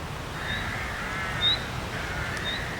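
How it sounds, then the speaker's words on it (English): Crows caw a few times in the background during a cricket match, short harsh calls over a steady outdoor hiss. "The birds making a beautiful song in the background."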